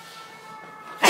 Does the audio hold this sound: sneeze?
yes